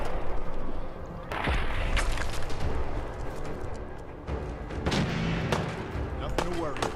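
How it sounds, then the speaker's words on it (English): Gunfire in the video game Fallout 4: several sharp shots and booms ring out at irregular intervals over a dense, noisy game soundscape, with a voice talking in between. "Go ahead and just shoot for the torso."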